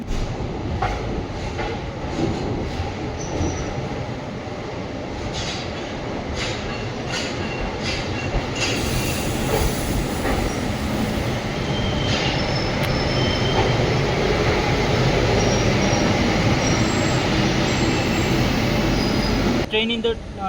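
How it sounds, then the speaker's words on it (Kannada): Mysore–Ajmer summer special express shunting at platform four, with loud squealing wheels, rhythmic clickety-clack and a heavy rolling rumble building over time, and a person talking over it. "ಪ್ಲ್ಯಾಟ್ಫಾರ್ಮ್ ನಂಬರ್ 4 ಶಂಟ್ ಆಗಿದೆ Mysuru Ajmer summer special express"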